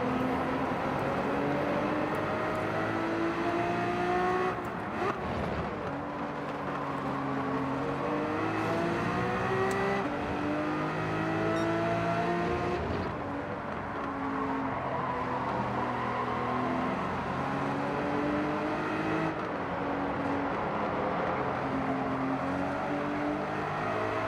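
Race car engines in Gran Turismo 7, including a Ferrari, whining steadily and rising and falling in pitch through gear changes, several cars droning together at a constant, fairly close level with no talk.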